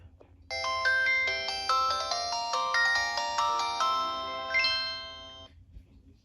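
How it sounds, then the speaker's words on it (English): A 2004 LG VX3200 Verizon flip phone plays a polyphonic ringtone, a bright, close melody of stepped electronic notes lasting about five seconds before fading, with no speech. "Today we're going to be doing the ringtones and sounds on the LG VX3200 on Verizon."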